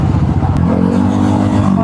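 A 500cc Honda CB500 big bike weaves through traffic with a close, rumbling engine drone that holds steady and thickens. Voices talk over it.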